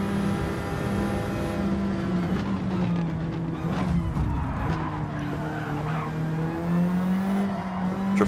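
A drift car skids in the Gran Turismo 7 racing game, with a loud, continuous engine drone and long squealing tire slides that rise and fall throughout.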